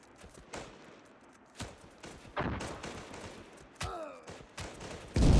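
Tank gunfire in the Panzer Strike real-time strategy game: scattered sharp cannon and gun reports at uneven intervals, a few loud close bursts amid quieter distant shots, with a heavy blast near the end.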